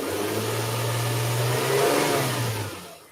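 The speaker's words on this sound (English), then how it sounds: "I'm just going to reach out and rev the car a bit" A Mitsubishi car engine is revved close by during airflow meter testing, a steady mid-pitched drone that swells briefly and then dies away, with no talking.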